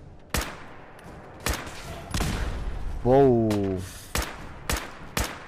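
Sharp, spaced gunshots from the video game Fallout 4 crack out one at a time, close and loud, with a short rumbling burst midway; a voice speaks briefly between the shots.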